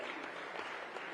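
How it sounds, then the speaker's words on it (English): Audience applause at a live technical textiles seminar in Coimbatore, a steady dense clapping that fills the short moment on its own, fairly loud and even throughout. "again a huge round of applause"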